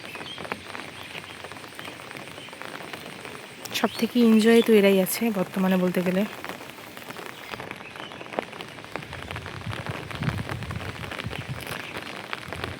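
Heavy rain falls steadily in a rural area with low-lying water, a constant broadband patter; someone talks over it for part of the time.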